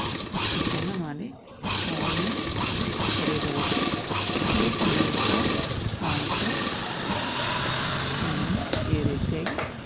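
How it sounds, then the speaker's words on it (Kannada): A sewing machine stitching lace onto a blouse back neck hums and whirs continuously at close range while someone speaks over it throughout, with a short pause in the motor noise early on. "ಲೇಸನ್ನು ಸಣ್ಣ ಲೇಸನ್ನು ತಗೊಂಡು ಸ್ಟಿಚ್ಚನ್ನು ಮಾಡಿ"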